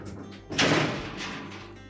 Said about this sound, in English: we simply lift up on both sides of the door